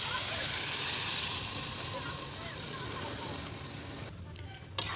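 Water poured into a frying pan of cauliflower and potato curry sets off a loud, dense sizzle that holds steady up close, then cuts off sharply near the end.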